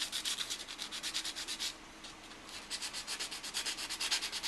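Contact surfaces of a 12-volt button switch being cleaned with close, rhythmic rubbing strokes in quick repeated bursts, with a brief pause midway before the scrubbing resumes.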